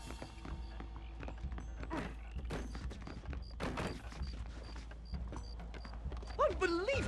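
Horse hooves clip-clop in the Western video game Red Dead Redemption, a scattered series of thuds and clops under game music and effects, with a voice speaking near the end.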